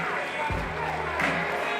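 Awards show audience in a hall, a steady roar of crowd noise with cheering and applause running throughout, a couple of sharp thuds breaking through, and a voice speaking faintly over it.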